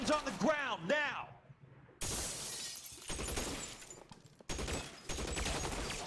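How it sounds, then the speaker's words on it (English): Tommy gun fire in the crime game L.A. Noire, loud rattling bursts that start abruptly mid-scene after a brief stretch of a voice, with a gap before a second volley. "This guy's got like fucking Tommy guns and shit"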